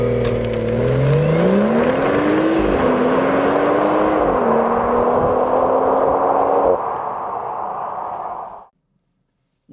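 BMW 440i Gran Coupe launching under launch control: the engine note climbs steadily in pitch through gear changes, loud and close, then cuts off into silence.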